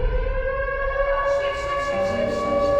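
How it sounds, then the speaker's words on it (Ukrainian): An air raid siren sounds continuously and loudly, a sustained mechanical wail holding a steady pitch with rich overtones, and a faint pulsing rises toward the end. "Коли починається повітряна тривога, ми збираємо речі і спускаємося в укриття."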